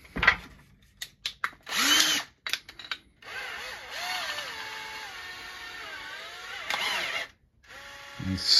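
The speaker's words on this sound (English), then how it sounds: "hook up your drill" A power drill whirs in short bursts, then runs steadily with a rising and falling whine, close up, with brief pauses between runs.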